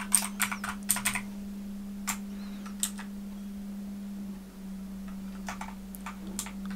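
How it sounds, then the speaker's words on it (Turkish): Clicky keys on a Jixian blue switch mechanical keyboard, pressed in a quick burst of several sharp clacks, then sparser single presses with pauses, close up over a steady electrical hum and no talking. "Şimdi şuradan diğer tuşlarına basıyorum."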